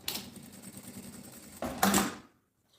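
Short burst of a sewing machine stitching the pull tabs of a women's backpack, a fast mechanical rattle that jumps louder near the end and then stops dead into silence.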